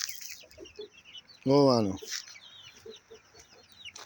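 A rooster gives one loud, close cluck-squawk burst in a farmyard, with faint softer clucks before and after and a voice speaking briefly.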